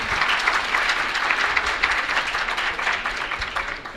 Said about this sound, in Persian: من خواهش میکنم مجددا آقای کرمونا رو تشویق بفرمایید